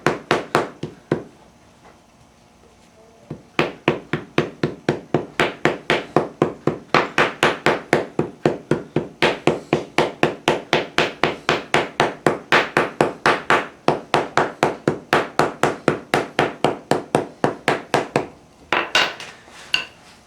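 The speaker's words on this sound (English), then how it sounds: "Use a hammer to compact it." Hammer compacting doped clay into a mould for bronze casting, a fast steady run of sharp dull knocks, close and loud, pausing briefly near the start and end.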